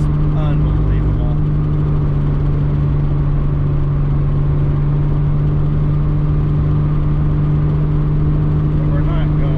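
A car with a Walbro fuel pump drives fast through canyon-road corners, its engine droning steadily and loudly at speed, with a voice talking over it the whole time.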